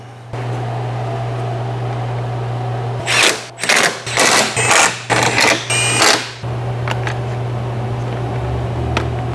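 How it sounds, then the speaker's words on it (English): An AC machine pulling a vacuum on the air conditioning system of a Mercedes C63 Edition 507 hums steadily, interrupted midway by a run of loud clattering mechanical bursts. "I have our AC machine putting the system under vacuum while I reinstall the radiator support."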